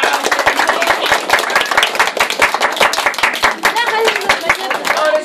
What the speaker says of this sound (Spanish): ¡Y los aplausos!